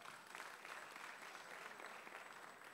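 A church congregation claps their hands together during a sermon, a steady, faint wash of applause that holds evenly for a few seconds with no clear talk on top.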